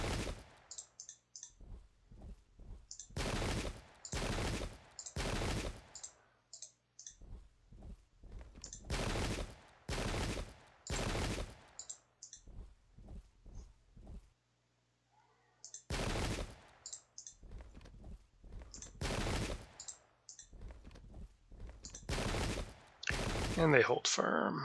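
Musket volleys crack out in the Pike and Shot battle game between Swedish and Spanish armies, coming as repeated bursts of rolling gunfire with short gaps between them, loud, mixed with scattered single shots and a voice talking over them.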